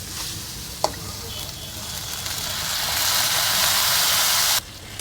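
Water poured into a hot pan of fried potatoes and elephant apple: a sharp clatter, then a rising loud hiss and boil that holds steady before cutting off abruptly near the end.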